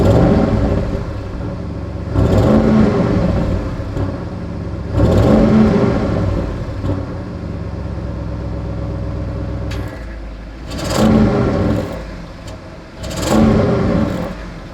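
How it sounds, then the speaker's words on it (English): A stock 2021 Audi RS6 Avant engine revved in repeated bursts, each loud roaring climb falling back to a deep rumbling idle, four revs spaced across the stretch, close and alone. "We're gonna rev this thing up and see what we can do."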